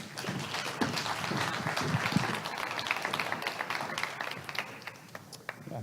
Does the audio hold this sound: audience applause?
yes